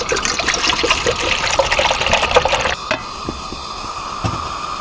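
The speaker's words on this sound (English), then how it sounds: "So we're going to put about half of this canteen in our pot." Water pours steadily from a canteen into a mess kit pot with a gushing, splashing rush that then tapers off to a quieter trickle.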